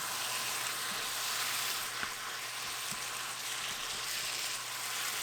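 Thinly sliced pork belly and kimchi cooking in a covered pan, a continuous, even sizzle heard up close with a few faint pops and no voices.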